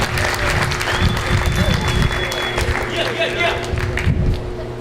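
Guests at a Philippine Weekend 40th anniversary gala break into lively applause for the band, close and loud clapping with crowd murmur and a few voices mixed in before it thins out at the end.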